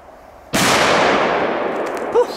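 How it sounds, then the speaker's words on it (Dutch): A single loud, sharp firecracker bang in a forest cuts through a quiet background, followed by a long echoing decay that rings out for over a second. "Zo, wat een belachelijk harde knal"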